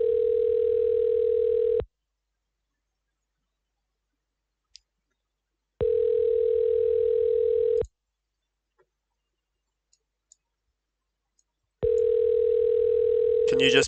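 A steady telephone tone sounds in three loud, even bursts of about two seconds each, separated by long silent gaps with a few faint clicks, from a horror-series phone call scene.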